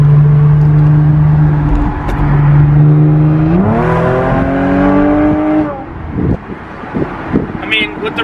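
Tuned 400 HP Audi S5 with the roof off, engine droning steadily then revving up in a rising sweep that holds and drops away, loud and close, with wind noise and brief talk near the end.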